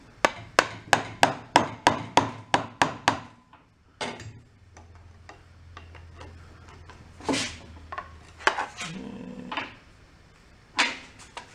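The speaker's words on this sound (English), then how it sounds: "Gotta work some screwdrivers as wedges." Screwdrivers are worked as wedges to pry apart parts of a junked marine diesel generator set, opening with a rapid run of about ten sharp metallic taps, then scattered scrapes, clicks and grinding pries at close range.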